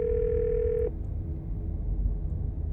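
A telephone dial tone in the video game Scarlet Hollow: a steady, pure electronic hum sounds for under a second, then cuts off abruptly, leaving a low murmur of background noise.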